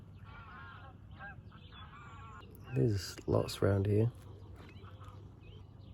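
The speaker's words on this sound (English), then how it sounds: "I hope you can hear all the birds again." Birds call around a campsite near Wylam on the Hadrian's Wall cycle route, with several loud, goose-like honking calls bursting out close by over a steady background. A person speaks briefly.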